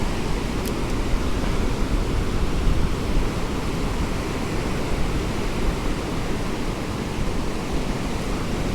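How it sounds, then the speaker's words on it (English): Ocean surf breaking hard along a Galveston, Texas beach, a loud, unbroken roar of waves and wash heard up close, with wind rumbling across the microphone throughout. "the surf is freaking ripping"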